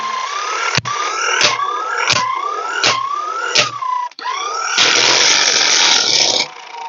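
A 12V electric impact wrench loosens a car lug nut, giving five rapid rising whirring bursts separated by short pauses, then a longer sustained hammering rattle, loud and close with no talk.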